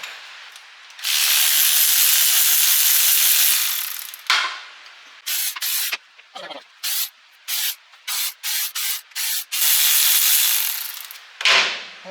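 Rapid ratchet clicking in several bursts, one long steady run, then short quick spurts separated by pauses, as a ratchet removes the bolts from the rear end of a 1975 Monte Carlo for a gear oil change.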